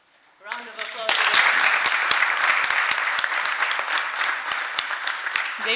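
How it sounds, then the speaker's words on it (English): Sustained applause from a forum audience at an environmental emergencies session, dense clapping swelling in after a brief moment and holding steady, loud and close throughout. "Round of applause."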